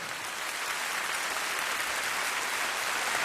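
Studio audience on a TV show clapping, a dense, steady wash of applause sustained throughout at even loudness.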